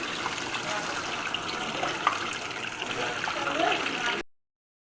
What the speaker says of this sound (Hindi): ये हमारी जो है चिकन ये शैलो फ्राई हो रही है